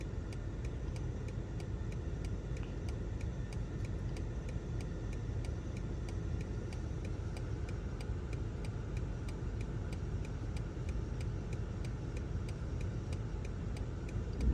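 A BMW with Parking Assistant maneuvers itself, a quiet low cabin hum under an even, repeating ticking like an indicator, steady for the whole stretch with no talk.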